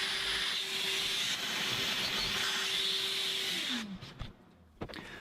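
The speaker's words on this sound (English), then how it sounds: "And then using the supplied jig and drill bit, we can drill the access hole." A drill boring an access hole through a wood panel with a supplied jig and bit, heard close and loud as a steady whirring hiss that stops abruptly, leaving a few light knocks.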